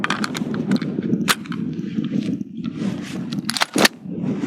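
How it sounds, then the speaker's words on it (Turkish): A Husan Arms rifle is loaded with two rounds, giving a quick series of sharp metallic clicks, snaps and scrapes close to the microphone, with no talking. "Tüfeğimi doldurdum."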